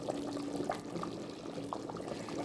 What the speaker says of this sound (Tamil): லெமன் 1/2 பழம் ஊற்றணும்